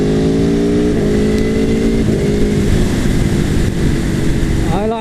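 An Aprilia Tuono Factory motorcycle accelerates hard, its loud engine note climbing steadily and cut by several quick-shifter gear changes, each dropping the pitch before it rises again, close and dominant.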